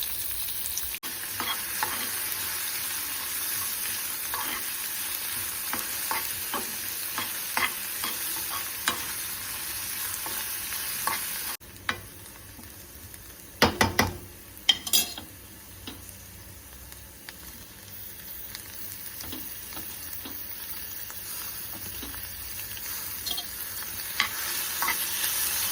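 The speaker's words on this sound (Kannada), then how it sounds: "ಈರುಳ್ಳಿ ಬ್ರೌನ್ ಕಲರ್ ಬರುವ ತನಕ ಫ್ರೈ ಮಾಡಬೇಕು" Onions and tomatoes frying for a Mangalore-style crab sukka, a steady close sizzle with scattered ticks of stirring and a brief burst of louder scraping midway, no talking.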